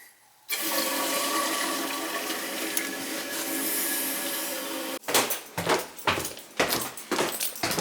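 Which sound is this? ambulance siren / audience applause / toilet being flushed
toilet being flushed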